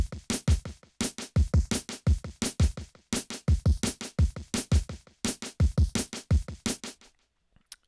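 Rock drum kit driving a full-time feel for the last verse of a worship song: busy, evenly spaced kick and snare hits with cymbal wash in a quick steady groove, close and punchy, stopping abruptly near the end.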